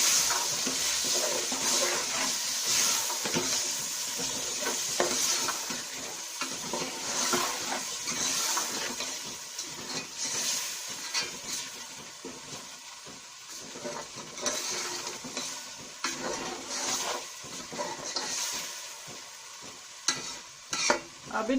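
Chopped green onions frying in a pan for a home-style sabzi, a continuous close sizzle with repeated stirring scrapes and clinks throughout, no talking.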